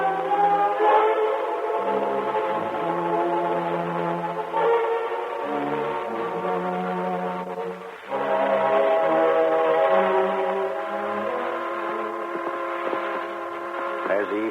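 A steam train whistle blows in long chord-like blasts, with low rumbling underneath and a pause before the blasts resume.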